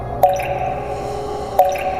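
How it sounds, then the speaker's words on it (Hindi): Water drips from a hostel roof, two distinct close drops falling about a second and a half apart over a steady low background hum. "हॉस्टल की छत से टपकती पानी की आवाज"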